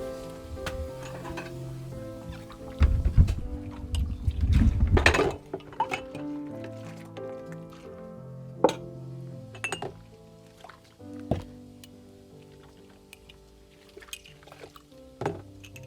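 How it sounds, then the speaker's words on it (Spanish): Dishes, pots and pans are washed with hot water in a rural kitchen, giving repeated clinks and clatters of crockery, a burst of splashing and pouring water early on, then scattered knocks and drips with no voices. "Como había mucho frío, Doña Fusta lavó los trastos en la cocina con agua caliente."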